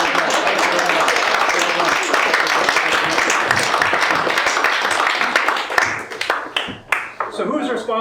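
Loud, sustained audience applause fills a magic show stage, dense clapping and some cheering running steadily for several seconds before thinning into scattered claps near the end.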